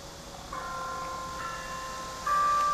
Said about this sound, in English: And a bell rings this time of night.